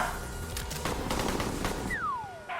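Rapid automatic gunfire in a stickman action game during a driving chase, a dense, loud burst of shots for about two seconds, followed by a high descending whistle.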